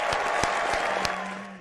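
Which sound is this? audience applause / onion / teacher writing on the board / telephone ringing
audience applause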